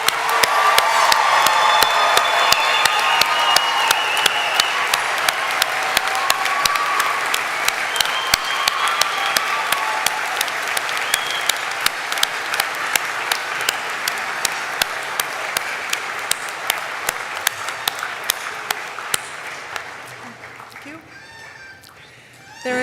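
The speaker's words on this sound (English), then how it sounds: "I invite everyone in attendance to join me in applauding your success" Large audience at a Dakota State University fall commencement ceremony breaking into sustained applause, dense clapping holding for about twenty seconds before fading away.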